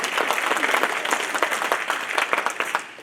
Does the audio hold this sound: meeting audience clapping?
yes